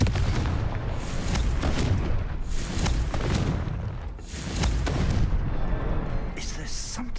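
Confringo blasting spells in Hogwarts Legacy go off as a string of sharp, booming blasts. The bursts are loud and repeated across several seconds, with scattered crackling bursts between them and game ambience underneath.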